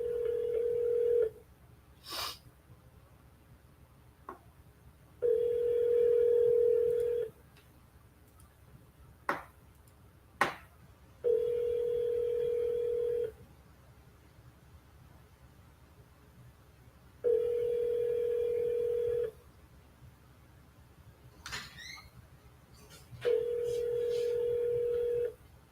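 An outgoing telephone call rings back in long, evenly spaced tones with quiet gaps between them, five rings in all, faint and clear with a few small clicks and no talking.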